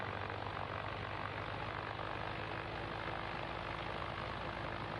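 A propeller aircraft engine drones steadily in a PS5 flight simulator cargo-delivery game, a constant, even roar with no other sounds over it.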